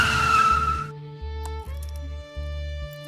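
Car braking to a stop as a sound effect in an audio story: a short, harsh tire squeal with rushing noise lasts under a second, then gives way to steady background music.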